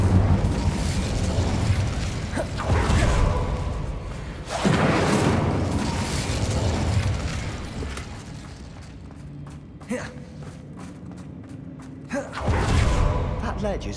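Incendio fire spells burst in the game Hogwarts Legacy, with loud booming blasts around 4.5 s and 12.5 s over dense battle noise and a rumbling low end.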